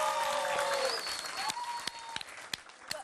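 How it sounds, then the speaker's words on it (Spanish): On a TV singing show, a studio audience breaks into applause as lingering tonal sounds fade out, leaving scattered, distinct claps over a quieter clapping background. "¿Un aplauso?"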